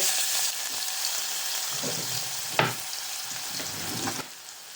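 Chopped garlic and ginger sizzling in hot oil with asafoetida for a moong curry, a close steady crackle broken by a few spoon scrapes and one sharp clack, fading softer at the end.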